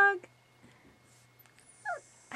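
Irish Setter puppies whimper and yip in short, high, wavering cries, singing along with a person's voice, with quiet gaps and low hum between the bursts.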